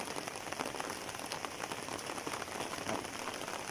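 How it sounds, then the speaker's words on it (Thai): Heavy rain falls on Koh Chang island, a dense, constant hiss of drops pattering on surfaces, loud and unbroken with no voices. "ฝนตกฝนตกประจำฝนตกบ่อยมาก"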